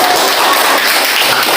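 A classroom full of students claps together, a loud, dense and continuous burst of many hands filling the whole moment.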